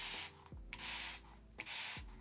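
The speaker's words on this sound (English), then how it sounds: "Let's spray myself in the face." A spray bottle sends quick bursts of water mist onto a face. The bursts are close and crisp, with short pauses between them and no talking.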